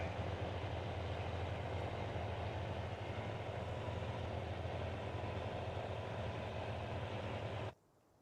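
Tractor and combine harvester engines from Farming Simulator 19 rumble in a steady, low, constant drone that runs unchanged for about eight seconds and then cuts off abruptly.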